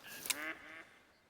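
A short duck call from a goldeneye in the hunting game theHunter: Call of the Wild, one brief nasal quack that rises and fades, heard alone and fairly faint.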